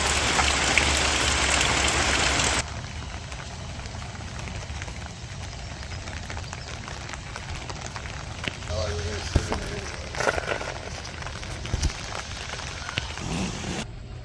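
Steady rain patters outdoors at a state park campsite, a broad wash that drops slightly softer after a few seconds, with occasional brief knocks and faint background voices.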